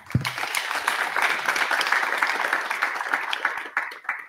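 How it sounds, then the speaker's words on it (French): At a retail media keynote, the audience claps for Florence Bréban after her closing remarks, with moderate, slightly uneven clapping and a few louder individual claps standing out near the end. "On peut l'applaudir."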